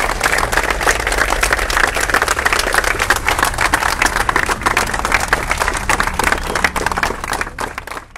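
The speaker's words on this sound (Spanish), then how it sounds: "Pues hoy la reciben así, los panistas, con ese aplauso." Mourners and party members applaud at a farewell tribute for a former municipal mayor in Ciudad Valles, a dense, steady crowd clapping that carries on without a break for the whole stretch.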